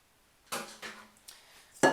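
Powdered sugar sifted into a bowl for buttercream, heard as four short, close rattling bursts from the sifter, each separated by brief pauses, with no talk.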